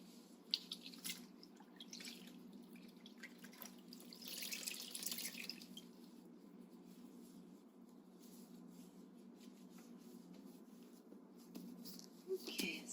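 Water trickles and drips faintly in a basin as skin is rinsed during a bed bath, a soft intermittent splashing that swells briefly midway and returns near the end.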